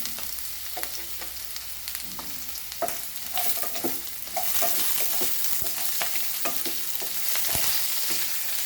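Asafoetida fries in hot oil in a pan, a steady close crackling sizzle that grows slightly louder partway through, punctuated by scraping stirs of a spoon against the pan, with no talking.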